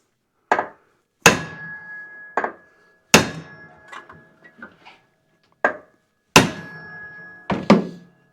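Metal hammer blows land on the head of a second hammer held against an engine flywheel on a Briggs & Stratton engine, sharp ringing clanks in uneven pairs with lighter taps between, loud and close.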